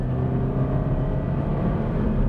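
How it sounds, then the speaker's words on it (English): A Subaru-built flat-four engine in a Toyota GT86 sports coupe runs steadily with a low, throaty rumble and whir, close and continuous without any talk. "It's so odd to hear that Subaru sound coming out of a Toyota."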